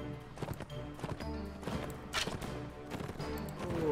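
Horse hooves clip-clop in Mount and Blade Warband, a steady rhythmic patter of several hoofbeats, moderately loud and close, over game ambience with no speech.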